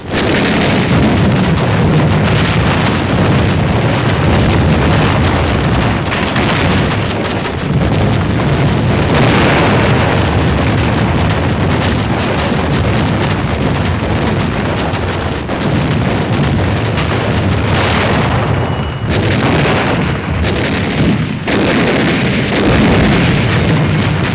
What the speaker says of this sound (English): Suribachi from the air, supporting ships deliver point-blank fire